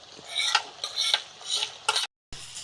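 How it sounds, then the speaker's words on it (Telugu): Onions and fennel seeds fry in a pan while a utensil stirs them, giving a steady sizzle broken by scraping strokes about every half second, with a brief silent gap near the end. "ఇప్పుడు ఇలా బాగా కలుపుకుంటూ వేగనివ్వాలి"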